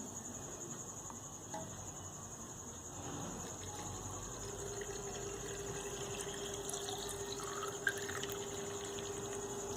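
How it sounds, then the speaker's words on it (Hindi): Water poured steadily into a half-litre can, a continuous close trickle that fills the whole stretch with a faint rising tone as the can fills, and no one speaking. "इसके अंदर हम लोग पानी डाल देते हैं।"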